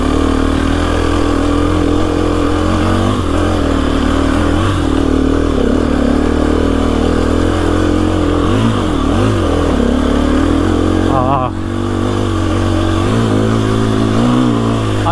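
A KTM EXC-F 350 dirt bike engine labors up a hill climb, droning loud and close with a steady buzzing tone that rises and dips slightly as the throttle shifts, without any voices.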